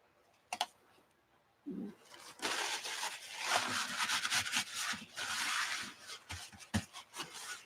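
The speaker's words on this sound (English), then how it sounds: "Let's clean my stencil." Rubbing and wiping scrub across an art stencil to clear gunk from its face, a steady scratchy friction with a few sharp taps at the start and near the end, heard close and alone.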